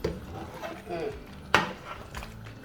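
Ingredients for Nigerian lumpy egusi soup with oziza leaf stirred in a pot, giving soft scraping and clinking of a utensil against the pot, with one sharp knock midway, in a kitchen with faint talk nearby.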